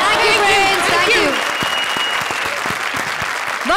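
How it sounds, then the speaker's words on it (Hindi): A studio audience on a Hindi comedy show claps, loud at first and partly masked by a voice and music. The applause then thins to scattered, distinct claps that gradually fade. "और प्रिंस के लिए एक बार फिर से जोरदार तालियां"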